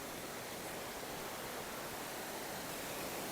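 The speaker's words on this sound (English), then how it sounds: "you can hear the falls so beautifully" A waterfall in Tasmanian bushland, a continuous soft rushing roar of falling water, even and unbroken, heard at moderate distance with no voices.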